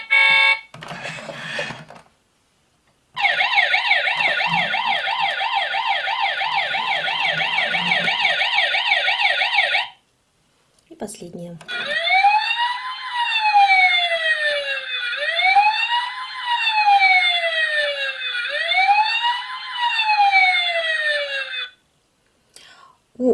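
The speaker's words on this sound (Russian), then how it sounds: "Также у машинки есть световые и звуковые эффекты." Electronic siren effects from a Tekhnopark toy fire truck with a ladder: a fast warbling wail, a pause, then a slower rising-falling siren cycling three times, loud and close, with brief talk between.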